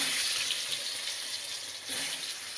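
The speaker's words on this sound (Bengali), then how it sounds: "এবার আলুগুলোকে আগে ভেজে নিই" Boiled whole potatoes fry in hot oil, a steady soft sizzle with faint hissing throughout and a slight surge near the end.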